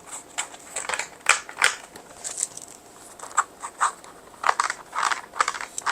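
A hand rubs and drags across the rubber outsole of a 361 Degrees Flame 3.5 running shoe, giving close, squeaky, scratchy strokes in an irregular rhythm of short bursts.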